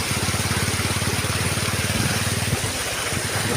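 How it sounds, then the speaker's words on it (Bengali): A motorcycle engine chugging steadily at low speed while riding along a flooded road through wetland, a close, rhythmic putter that eases off slightly near the end. "ওদিকে আমরা ধীরে ধীর গতিতে বাইক চালিয়ে যাচ্ছি"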